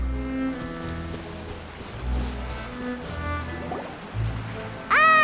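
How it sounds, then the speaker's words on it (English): Rain falls steadily in the Genshin Impact video game, a soft continuous patter with low rumbling swells, alone until a brief bright sound near the end. "Oh, it's raining."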